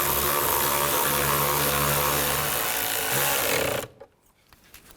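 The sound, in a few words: screws being tightened on a car door panel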